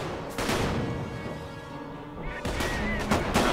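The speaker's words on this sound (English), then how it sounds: "Machine gunning things again." Machine gun fire in the Company of Heroes World War I mod, heard as bursts of gunshots and distant booms under a steady din of battle, with heavier blasts near the start and again toward the end.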